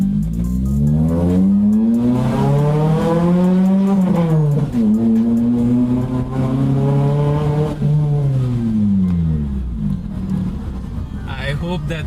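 Modified Maruti Baleno sedan with a 1.6-liter G16B engine, its loud aftermarket exhaust droning and rising and falling through the gears while driving, heard from inside the car with someone talking over it.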